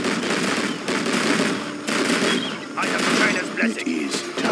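A Gatling cannon in the strategy game Command and Conquer Generals Zero Hour fires rapid, rattling bursts, with dense, fairly loud chattering gunfire interrupted by brief pauses.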